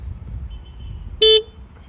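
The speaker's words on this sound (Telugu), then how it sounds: "So let's check the horn." A Honda Activa 6G BS6 2020 scooter horn gives one short, loud beep that rises sharply out of a quiet idle background and fades quickly.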